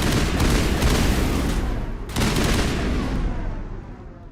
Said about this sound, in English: That's how you throw a grenade.